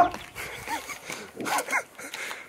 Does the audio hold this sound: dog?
yes